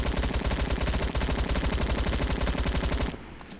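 Sustained full-auto AK-47 fire in the Roblox shooter Bad Business, a loud, rapid, continuous stream of shots for about three seconds that cuts off abruptly into quiet.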